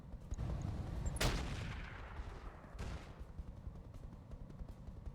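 Artillery fire in the BattleTech mod RogueTech: one loud broadband blast with a rumbling tail, then a second weaker thump about a second and a half later, over a constant low game rumble.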